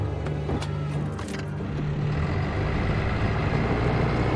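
A truck or tractor engine in the video game Far Cry 5, a steady low rumble with a few clanking knocks at the start, running loud and close throughout.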